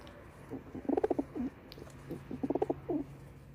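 Teddy pigeons coo nearby in two rhythmic bursts of soft throaty notes, each a quick run of pulses ending in a longer drawn coo, over a faint steady hum.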